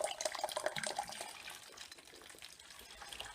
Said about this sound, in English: Collecting 7 litres of water at 75 degrees.